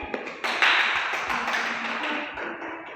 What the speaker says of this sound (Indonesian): Kasih aplaus pada temannya.